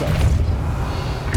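Depulso force-push spell cast in the video game Hogwarts Legacy, a short heavy thumping boom, close and loud, over in about a second.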